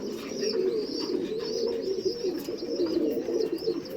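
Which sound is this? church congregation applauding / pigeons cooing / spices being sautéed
pigeons cooing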